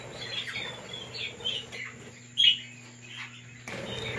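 Birds and chicks chirp in an aviary, with scattered faint tweets and short calls over a low steady hum, one sharper chirp standing out midway.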